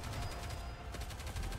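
Rapid bursts of gunfire during a boss fight in the video game NieR: Automata, dense and continuous across a short stretch, with repeated shots blending into a steady loud barrage and no talk.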